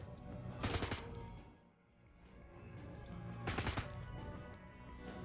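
Gunfire in the turn-based game Shadowrun: Hong Kong: two loud bursts of shots, one near the start and one about three seconds later, over a steady game soundtrack with no speech.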